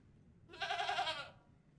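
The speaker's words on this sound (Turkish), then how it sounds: "İkinci seçenek, solumda gördüğün keçi." A goat lets out one drawn-out, wavering bleat lasting under a second, fairly close and clear against a quiet background, with no talking.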